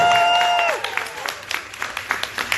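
A voice trails off, then the audience at a Wrestlefest Asia wrestling convention panel applauds with a moderate, steady patter of clapping for about two seconds.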